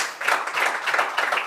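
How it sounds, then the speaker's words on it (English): Brief applause from journalists at a DTM 2024 press conference at the Hockenheimring, a short burst of dense clapping from a small room crowd. "that race was worth a round of applause today here from our journalist"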